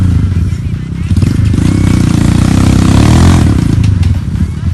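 A dirt bike engine on an off-road trail revs hard and loud close by, its buzzing note rising and falling in pitch as the throttle works, filling the whole short stretch.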